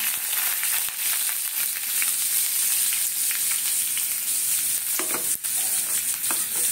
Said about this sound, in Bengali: এবারে পেঁয়াজ দিচ্ছি, পেঁয়াজ কুচি দেবো আবার বাটাও দেবো।